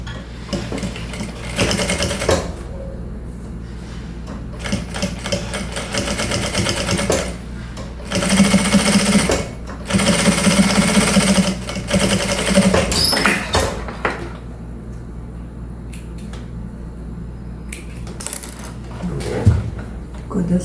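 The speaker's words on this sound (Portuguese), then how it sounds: "Vou virar aqui e fazer minha costura de pesponto." A sewing machine topstitches a small zippered travel bag, running in close, steady mechanical bursts with short pauses between runs.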